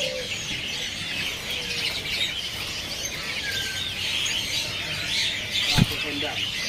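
Birds at a bird seller's stall, including a pelatuk kondang, chirp and tweet in a busy mix of calls under ongoing chatter, with a sharp knock near the end.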